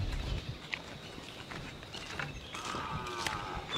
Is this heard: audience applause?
no